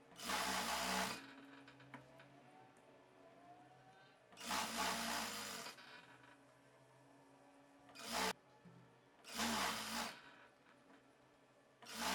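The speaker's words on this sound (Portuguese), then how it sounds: "passar uma costura na máquina reta" Straight sewing machine stitching a hem on a boho dress, running in three loud, close bursts of steady whirring separated by quiet pauses and a brief click.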